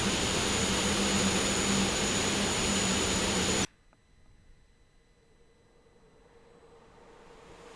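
A jet aircraft engine in the X-Plane 11 flight simulator roars steadily and loudly, then cuts off abruptly partway through, leaving only a faint, low hum.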